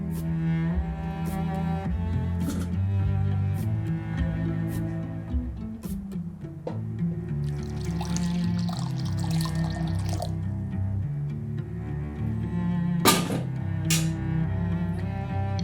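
Warm water is poured for proofing bread yeast, a soft trickling and dripping that runs for about fifteen seconds over a steady low musical hum, with a brighter splashy stretch in the middle and no speech.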